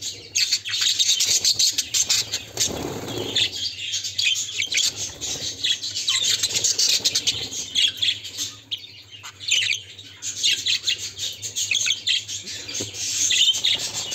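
Society finch chicks being hand-tamed at an indoor aviary nest box: constant high, raspy chirps and squawks, close and busy, with bursts of overlapping calls throughout.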